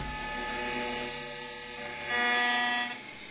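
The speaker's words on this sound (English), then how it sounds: "Turn over the wax disc, tighten the screw once again, and machine the other side." A milling machine cuts a jewelry wax disc during plain 3-axis machining: a steady mechanical whir rises to a high, piercing whine for about a second, then settles into a quieter continuous hum, with no talking.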